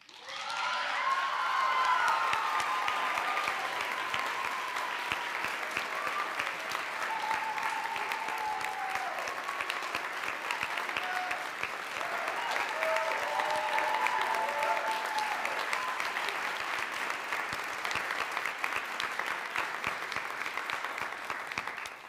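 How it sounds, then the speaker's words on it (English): A crowd applauds steadily for finalists at the 2024 C. Henry Smith Peace Oratorical Contest, the clapping dense and even for over twenty seconds with scattered cheers mixed in. "And a big round of applause for all the finalists."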